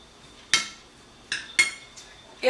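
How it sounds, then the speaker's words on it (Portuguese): Utensils clink and scrape against a bowl while quinoa salad with chopped parsley is tossed, four sharp, close knocks spaced unevenly over a quiet background. "Vamos misturar bem."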